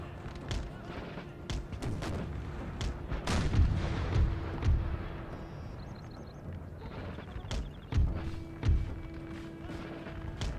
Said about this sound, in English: Oh, firing on my cavalry.